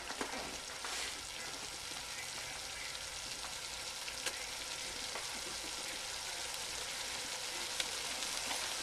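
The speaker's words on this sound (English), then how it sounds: "I want it to sizzle before I add the chicken" Tamale filling sizzles in a pan before chicken is added, a constant close frying hiss with scattered small crackles and pops, steady throughout with no speech.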